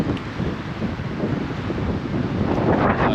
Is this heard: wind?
yes